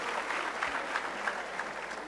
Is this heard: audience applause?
yes